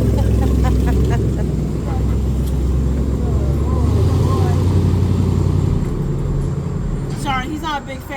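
A diesel engine vehicle passes on a Charleston street, a loud, steady low engine rumble that lasts throughout, with a few brief squeaks and clatters near the end.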